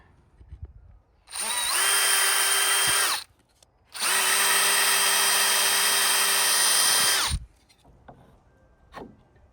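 A power drill driving screws through lath strips into warped cedar fence slats, two sustained whining bursts of a few seconds each, loud and close, with faint handling noises between and after.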